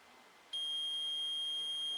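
A multimeter gives a continuity-test beep while probing a transformer's secondary winding: one steady, sustained electronic tone that starts abruptly and holds, close and clear against a faint background hiss.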